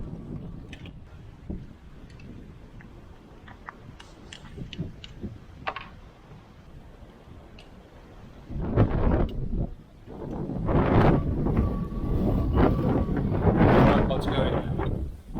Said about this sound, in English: the wind is just hectic. It's nearly blowing my head off